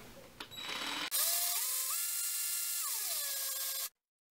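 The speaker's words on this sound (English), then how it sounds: "put it in the end of the drill, and now just give it a spin" After a brief clatter, a power drill twisting a length of wire whirs loudly for about three seconds, its pitch rising and falling, then cuts off abruptly into silence.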